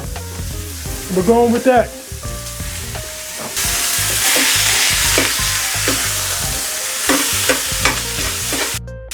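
Ground beef, 80/20, hitting a pan with a little leftover oil, a loud sustained sizzle swelling after some stirring and clattering, with a brief spoken line early on.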